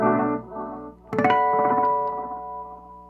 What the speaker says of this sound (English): this basically smears the repeats a little bit, makes it a little bit more reverberant